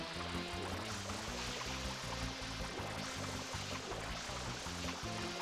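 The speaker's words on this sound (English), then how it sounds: "Just need to keep refreshing my water so I keep spraying it at full power." Water spraying in the video game Super Mario Sunshine, a steady loud rushing hiss over rhythmic game music with low pulsing beats.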